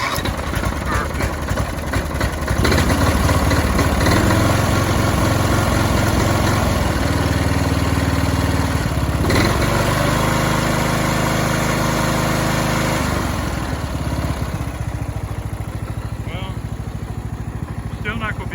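An old 25-year-old Weedeater lawn mower engine idling on low throttle just after a carburetor repair, a loud continuous rumbling drone close by that shifts pitch slightly, running throughout.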